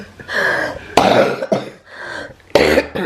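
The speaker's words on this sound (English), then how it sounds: "Now this guy has been coughing" Several harsh coughs in a row, close and loud, with short pauses between bursts and no talking.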